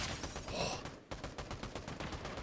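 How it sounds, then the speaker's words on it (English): A burst assault rifle firing in the video game Fortnite, with rapid clusters of sharp, loud shots repeating in quick, even bursts, broken by a short pause near the middle. "This burst AR is so nice."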